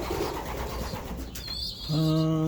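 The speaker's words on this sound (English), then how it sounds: "Squeakers are squeaking." Young pigeon squeakers in a breeding loft give a thin, steady squeaking whine near the end, over a background of cooing and rustling from the birds around them.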